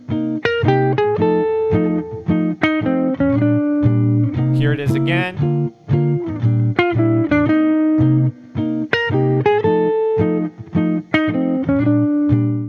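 Jazz guitar plays an improvised single-note line of chromatic enclosures over a ii–V–I progression, with steady, fairly loud picked notes running through the whole passage and a brief spoken remark partway through.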